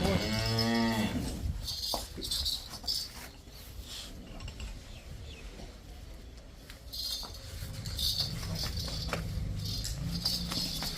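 A cow gives a loud, close moo at the start, its drawn-out call filling the first second on a dairy farm where cows are kept for sale, followed by quieter farmyard clatter and a faint voice.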